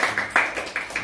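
An audience claps for the pastor after a sermon, a sparse handful of separate claps in uneven rhythm, fairly faint and close.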